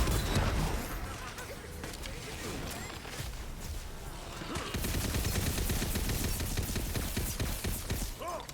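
Mortar shrooms firing in a video game: dense, rapid bursts of sharp cracking shots, sustained throughout and growing busier toward the end, with no voices.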